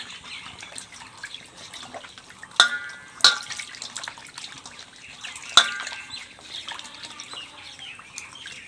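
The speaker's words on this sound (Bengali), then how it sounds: "এখন আমি জলে ভালোভাবে ধুয়ে নেব।" Fish pieces are rinsed in water, a soft continuous sloshing and trickling broken by a few sharp knocks and splashes.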